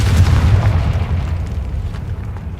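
A Confringo spell detonates in the video game Hogwarts Legacy, a loud close deep boom with rumbling low-end debris that rolls on and slowly fades over a couple of seconds.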